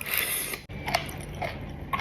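Crunchy pickled tiger jellyfish with gochujang is bitten and chewed up close. A few crisp, quiet crunches come in separate bursts between short pauses.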